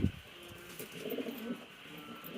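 Pigeons coo in low, soft, rolling calls, faint and steady against a quiet background.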